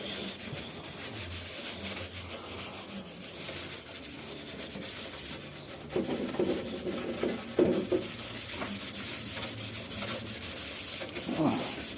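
A scrubber grinds back and forth across a very dirty gas stove under hard pressure, a continuous close rasping rub with rougher, louder strokes toward the end.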